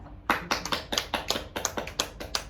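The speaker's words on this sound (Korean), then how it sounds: "저는 박수를 쳐드리고 싶습니다." A small group claps for a few seconds, quick sharp slaps in an uneven patter, close and fairly loud.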